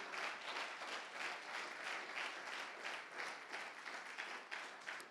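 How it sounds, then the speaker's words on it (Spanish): A church congregation claps for the Lord during a sermon, a steady, even roar of applause from many hands, faint and heard from a distance throughout. "Denle un aplauso al Señor, hermanos"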